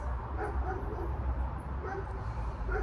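Dogs outdoors yip, whimper and give soft barks in short scattered bursts, faint and fairly distant against a low background rumble.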